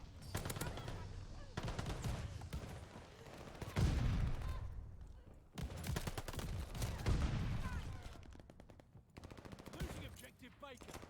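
Gunfire in the World War I–era shooter Call of Duty: Vanguard crackles in repeated bursts of rapid shots, loud and close, separated by short pauses, with game sounds in the background and a voice talking at times.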